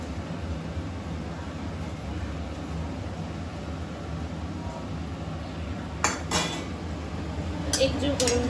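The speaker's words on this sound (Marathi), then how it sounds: "मसाले फ्राय झालेत आपण टाकूया आपला नूडल्स" Noodles tossed into a pan of oil-fried spices for a home-style veg Schezwan dish, a steady low sizzle with a few sharp metallic clinks of utensil on pan near the end.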